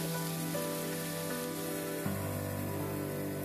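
Ginger, garlic and onion paste hits hot oil in a pan for a Bengali fish curry, giving a steady dense sizzle like rain that holds loud and close throughout, with a slight shift partway through.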